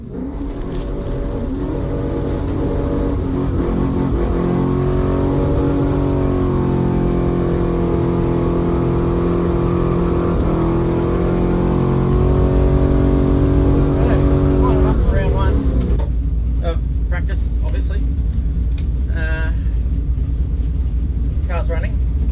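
A Chevrolet drag racing car engine runs at a test-and-tune event with a loud, steady, throaty rumble. Near the end the roar drops away, leaving a lower idle and a few scattered clicks.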